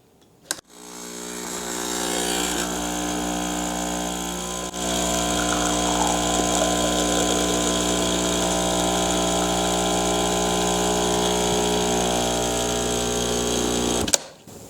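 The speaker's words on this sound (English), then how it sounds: "we're gonna pull a double shot, which is 2 ounces of espresso. On this machine, all I gotta do is just turn on the switch." A home espresso machine pulls a double shot, its pump droning loud and steady with a harsh, rattling hum for about fourteen seconds before stopping abruptly.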